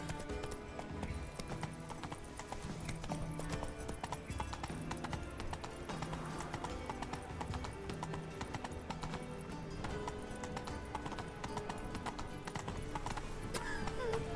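Horse hooves gallop in The Witcher 3 video game, a steady, rhythmic clip-clop that repeats continuously at moderate volume through the whole stretch.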